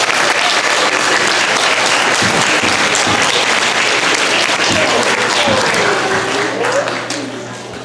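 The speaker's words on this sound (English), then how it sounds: "Let's give them all a round of applause." Loud, sustained applause from a large crowd at an elementary school geography bee, steady clapping throughout that tapers slightly at the end.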